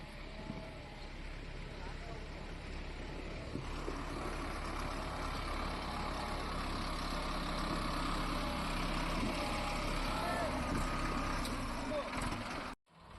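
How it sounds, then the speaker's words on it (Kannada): A loaded Hindustan-60 tractor runs with a steady low diesel drone, its engine rumbling continuously and fairly close before cutting off abruptly at the end. "ಈಗ ನಮ್ ಟ್ರ್ಯಾಕ್ಟರ್ ಬರ್ತಾ ಇದೆ"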